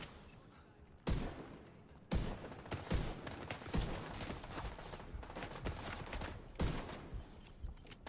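Gunfire in the video game The Division 2: repeated loud bursts of shots with sharp cracks and rapid volleys spread throughout, with no talking.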